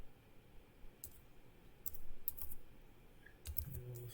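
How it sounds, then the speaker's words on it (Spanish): Sparse computer keyboard keypresses, mostly arrow keys, click one at a time at close range and fairly softly, with gaps between presses while a drafting template is set up. "Con las flechas del teclado puedo desplazarme para abajo y ahí se acomoda en la siguiente casilla."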